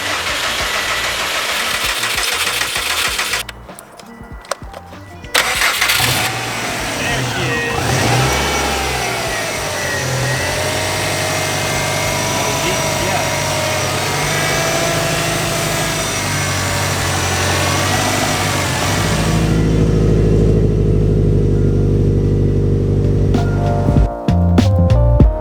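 A Subaru WRX turbo engine in a garage is revved hard again and again, a loud, sustained run of rising and falling engine roar with brief pauses between pulls.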